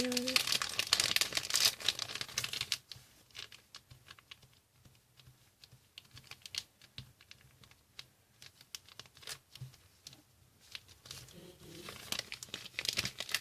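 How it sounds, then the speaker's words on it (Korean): A clear plastic file sleeve crinkles and rustles in irregular close bursts as whipped cream is spooned into it to make a piping bag, with someone speaking throughout. "저는 짤주가 이렇게 산 게 없으니까 여기 비닐 파일에다가 이렇게 넣고 넣습니다."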